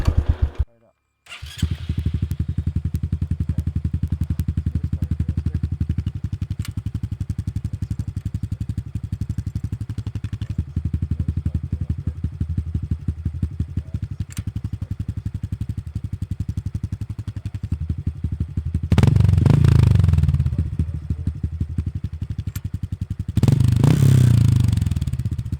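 Honda Trail 125 fitted with a Yoshimura exhaust and no spark arrestor starts up after a brief pause, then idles steadily with a low throbbing note, rising into two short revs near the end.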